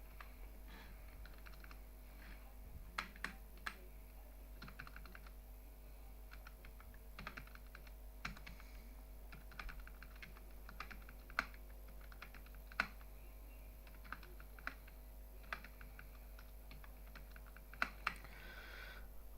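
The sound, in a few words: manual typing on a computer keyboard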